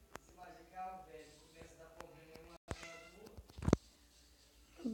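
A cat meows repeatedly in the Minecraft video game, short mewing calls spread across the clip with background game sounds and a person talking over them.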